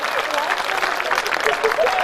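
A hall audience at a comic poetry gathering claps steadily with raised hands, a continuous bright wash of applause with faint voices mixed in.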